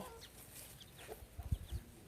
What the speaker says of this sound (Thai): ไก่มาเยอะแล้วพลอยไก่มาเยอะแล้ว